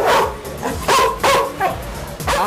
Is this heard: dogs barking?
yes